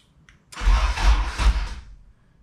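An Acura Integra engine cranking after a push-button start is pressed, a loud churning burst of about two seconds that rises abruptly and fades without catching, heard close with no talk over it.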